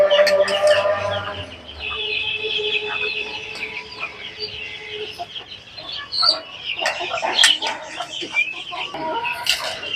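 Small chickens on a little poultry farm cluck and chirp continuously nearby, with overlapping calls and occasional sharper peeps throughout.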